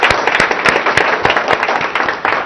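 Audience at a ZF technology center inauguration in Hyderabad clapping in a dense, lively burst of applause, sharp individual claps standing out above the crowd noise, with no talk over it.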